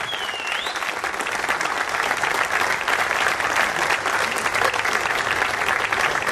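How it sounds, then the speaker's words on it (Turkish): Big crowd applause at a boxing show in Antalya, a dense, steady roar of many hands clapping loudly and continuously from start to finish, with a brief whistle near the beginning. "En kocaman alkışlar, bu alkış yetmez,"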